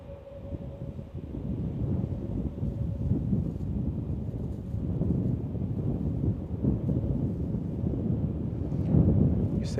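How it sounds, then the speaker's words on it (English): Strong wind buffets a microphone outdoors at San Francisco International Airport, giving a continuous low rumbling roar that swells and gusts, with a faint steady hum underneath and no talking. "But it's pretty windy."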